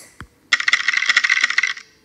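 Dice-roll sound effect triggered by a button in the Snap Core First communication app: a small tap, then about a second of bright, rapid rattling clatter that fades out, with no talking.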